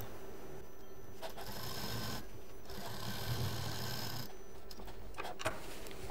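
An electric sewing machine stitches a thick press seam along the 12-inch bottom of a large travel bag, running in steady continuous bursts with brief pauses between them.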